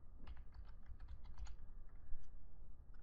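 Quick, irregular keystrokes on a computer keyboard while code is typed, fairly close and quiet, with a few louder taps standing out over a low background hum.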